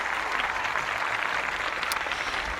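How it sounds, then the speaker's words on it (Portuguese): An audience on a TV programme applauds a bishop as he is welcomed on stage, giving a steady, dense, moderately loud clapping that holds evenly throughout. "vamos receber aqui com aquela calorosa salva de palmas"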